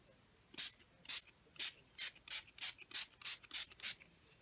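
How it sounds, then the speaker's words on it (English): Nine short hissing bursts of spray paint from an aerosol can, evenly spaced and fairly quiet, each lasting a fraction of a second. "You can do a light spray or a heavy spray."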